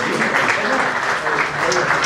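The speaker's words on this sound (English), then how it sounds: "please give him a round of applause for a great contribution" Audience applause for a keynote speaker at a conference on reconstruction management, a steady dense clapping that fills the whole clip, with a voice talking over it.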